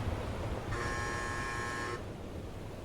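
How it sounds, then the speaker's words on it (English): A single steady electronic buzzer tone from the UBOAT submarine game sounds for about a second, clear and even against a low background hum, then cuts off. "I like the new buzzer with the sound mode"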